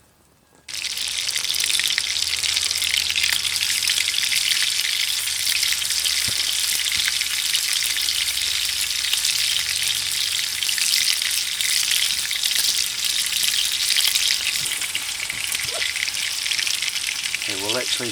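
Venison meatballs brown in a pan over a Firebox stove, a loud, steady sizzle that starts abruptly and crackles on without a break, with a few faint bumps from handling.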